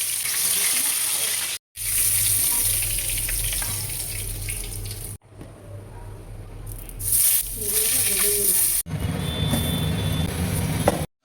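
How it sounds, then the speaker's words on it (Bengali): Hilsa fish and eggplant fry in hot oil with a continuous crackling sizzle, broken by a few abrupt cuts between short stretches of frying. "মাছ ভাজা বেগুন ভাজা শেষ"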